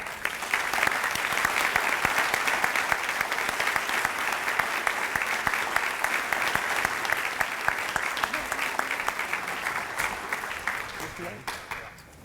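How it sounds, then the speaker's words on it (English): An audience at a United Way annual meeting gives a long round of applause for the incoming board chairperson, dense and steady clapping from a large room with crisp individual claps, tapering off at the end. "Please extend a round of applause for Miss Beth Reed."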